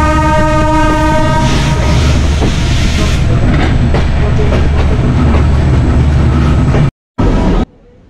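Kapotaksha Express pulling out of Noapara railway station in the morning: loud, close rumble of wheels and carriages with a long sustained horn blast through the first few seconds, running steadily until an abrupt cut near the end.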